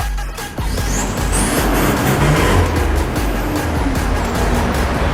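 Chevrolet Spark with a front-pipe exhaust setup rumbles at a steady idle, a close, continuous low engine drone that holds level throughout with no talk over it.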